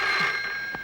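A telephone rings with a bright, steady electronic tone that holds for under a second, close and clear with no talk over it.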